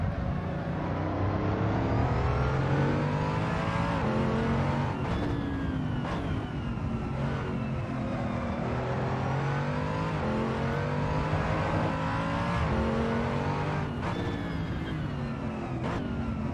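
A GT race car in Assetto Corsa Competizione revs hard around a track lap, the engine note climbing and dropping through repeated upshifts and downshifts, loud and continuous from start to finish.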